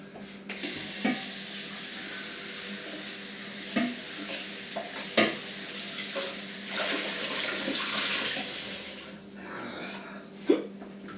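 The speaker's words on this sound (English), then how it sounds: "Give it a rinse there," Water from a tap runs into a sink as a bird is rinsed before roasting, a continuous spray with a few sharper splashes and knocks near the end.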